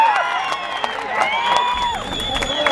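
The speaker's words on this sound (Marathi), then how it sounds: "टाळ्या वाजवा, मनापासून वाजवा" A crowd at an outdoor wrestling semifinal bout claps and cheers, heard as a broad roar with whistles threaded through it and an announcer's amplified voice over the top.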